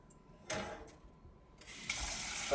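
Water splashes over rice in a kitchen sink in short bursts, with a brief gush, a pause and then a louder, sustained stream near the end, close by.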